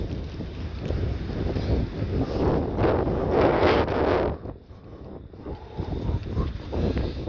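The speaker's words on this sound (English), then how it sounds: "See what I mean? Like, it's windy," Strong wind buffets the microphone outdoors, a steady roaring rush that swells into a louder gust midway, then eases and picks up again, with no voices over it.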